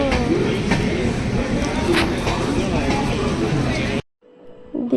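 Doon Express pulling into Bandel station at night, a loud steady rumble and rattle of railcars with squealing and clanking over platform crowd babble, then cutting to near silence with faint noises near the end.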